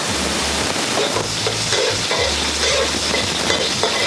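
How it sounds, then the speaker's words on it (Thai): Garlic and chili sizzle in a little oil in a pan, a loud continuous frying crackle with scraping stirring strokes throughout, no voices. "น้ำมันลงไปเล็กน้อย กระเทียมและพริกลงค่ะ"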